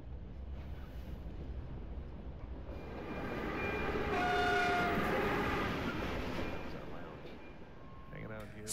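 A moving train in the video game Reveil rumbles steadily, swelling to a louder metallic rolling roar midway with ringing squeals, then easing off, while a voice talks over it.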